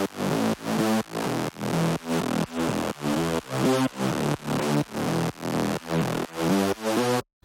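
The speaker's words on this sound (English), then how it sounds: "Then the second layer is a saw bass that takes up way more of the frequency spectrum" A saw bass layer built in the Sylenth synth for a track, loud and full, pulsing in about fourteen evenly spaced, pumping notes that cut off abruptly at the end.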